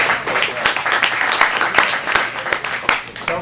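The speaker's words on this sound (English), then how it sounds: "let's give her a round of applause" A small audience gives a round of applause, with loose overlapping claps that stay fairly close and steady, and faint voices underneath.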